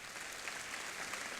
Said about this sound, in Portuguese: Eu queria que você aplaudisse essa menina.